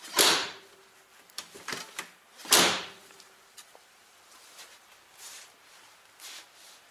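A rear-hinged suicide car door is opened and shut with two solid thuds about two seconds apart, followed by faint clicks and handling sounds in a quiet space.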